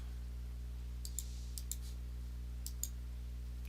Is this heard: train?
no